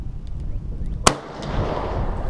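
A single loud, sharp Mosin Nagant rifle shot during live fire, cracking out once near the middle over steady outdoor background noise, with a short rumbling tail after.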